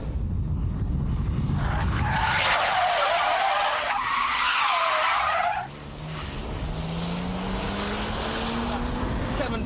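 A BMW Z3 M Roadster skids through a 360-degree spin. A loud, sustained tire scrub comes first, then it gives way to the engine revving and rising in pitch as the car pulls away.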